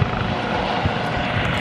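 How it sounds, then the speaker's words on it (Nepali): Steady, close rotor and turbine roar from a training helicopter flying overhead at an RAF base in the UK, loud and continuous with no voices over it. "दट्स हेलिकप्टर उडाउन सिकेको रे"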